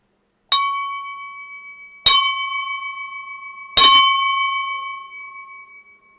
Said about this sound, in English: A joyous ringing of the 20 bell is heard in honor of Waterloo Week